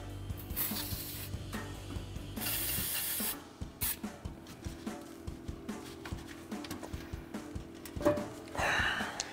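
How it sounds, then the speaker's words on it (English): Spray bursts hiss onto the rubber exhaust isolators of a RAM 1500 during a dual exhaust installation. Several close, loud blasts of lubricant spray are broken by clinks and rubbing of metal parts. "we're going to spray down our last two rubber isolators"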